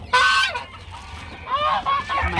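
Young chickens, many of them roosters, calling in a flock: a loud honking, squawking cry up front, then a string of shorter clucks and crows close by, no talking.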